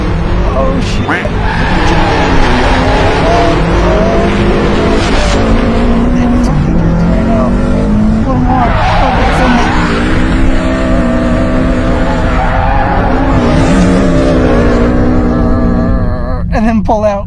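Modified Honda CR-Z drifting in circles, engine roaring loudly and close with rising and falling revs and tire squeal, under continuous talk and shouting from people inside the car.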